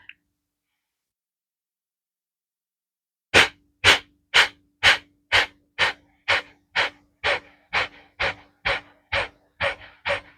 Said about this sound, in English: I will take in a deep breath and then show you what this is all about.